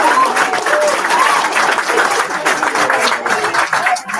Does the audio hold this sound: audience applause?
yes